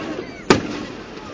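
A single Fourth of July firework bursts in West Allis, Wisconsin, as one sharp boom heard from a distance against the quiet murmur of the outdoor crowd.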